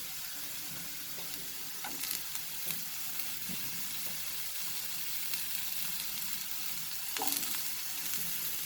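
Vegetables fry over a high flame in a fried rice pan: a steady, loud sizzle with occasional clanks and stirring scrapes of the spatula.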